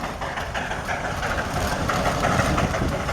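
A steam traction engine at a vintage steam show, working hard under heavy load, gives a continuous near, loud chuffing and mechanical rumble that holds steady throughout and sounds much like a railway locomotive.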